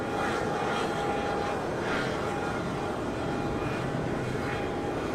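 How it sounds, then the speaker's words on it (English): An American Airlines A321 airliner departing Charlotte Douglas airport on a windy day gives a steady, distant jet roar that holds evenly throughout. "Got American Airlines 1303 up for departure."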